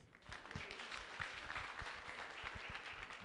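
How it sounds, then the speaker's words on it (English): Audience applause at a San Fernando City public health department event, a steady patter of many hands lasting a few seconds, soft and somewhat distant with no voices over it. "Give her a round of applause, please."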